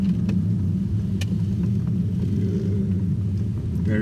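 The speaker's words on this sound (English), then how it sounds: "it's just such a nice rumble to that V8" An Audi S8 V8 rumbling steadily while driving along narrow roads in Germany, a deep, continuous, fairly loud low drone heard from inside the car with no one talking.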